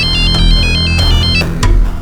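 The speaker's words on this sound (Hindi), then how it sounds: "फिर मैंने सविता को फोन किया।" A telephone ringtone plays loudly and steadily in a repeating electronic melody, filling the whole stretch without talk over it, as a call is placed in a dramatized crime scene.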